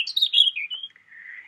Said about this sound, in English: Can you hear this little robin?